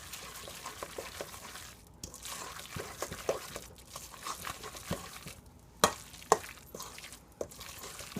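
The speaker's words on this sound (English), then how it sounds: "Give it a stir. Stir it up real nice so you can get everything mixed in well." A wet vegan fishcake mixture with added water is stirred in a pot, soft squelching and scraping in an uneven rhythm, with a couple of sharper spoon knocks against the side.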